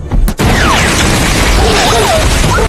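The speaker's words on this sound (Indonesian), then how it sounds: "Predator meninggalkan pesawat sebelum akhirnya pesawat itu meledak" A spaceship explodes in a Predator film. A sharp hit is followed by a loud, sustained roaring blast with whining streaks of debris through it.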